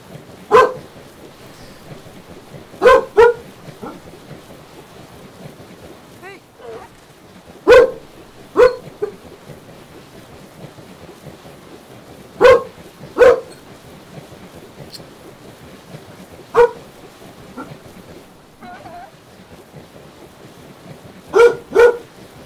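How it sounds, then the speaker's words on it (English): A hunting dog barks loudly and close by in single and paired woofs spaced a few seconds apart, over a steady rain-like hiss in the background. "she's a hunting dog, so she's used to barking"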